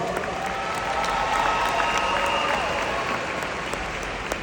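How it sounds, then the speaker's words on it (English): Graduation ceremony crowd applauding, a steady sustained wash of clapping with faint cheering mixed in, moderately loud and distant-sounding throughout. "Give yourselves a big, big round of applause."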